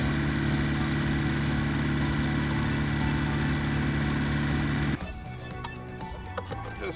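Engine of an underground directional drilling rig running steadily and loud, a constant low mechanical drone that drops to a quieter, rougher idle partway through, with no voices.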